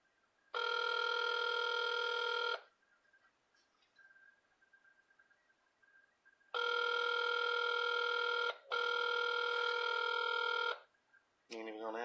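An outgoing phone call rings back twice, each long steady tone repeating in a regular on-off cadence, separated by quiet gaps with faint background noise, and a brief burst of dialing or chirping at the end.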